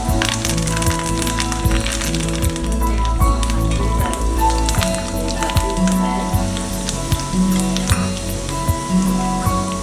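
Asafoetida, dried red chillies and curry leaves crackle and sizzle in hot oil for a vermicelli upma tempering, a steady close frying hiss with sharp pops scattered throughout and no voices.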